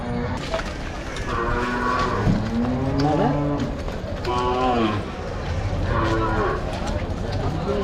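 Draught cattle moo repeatedly, three long, low calls against a busy outdoor cattle market background in Vaniyambadi, India, with people talking nearby.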